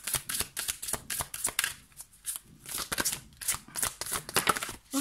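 Tarot cards are shuffled and drawn, giving a dense run of papery riffles, flicks and slaps in quick uneven bursts. The sound is close and continuous throughout.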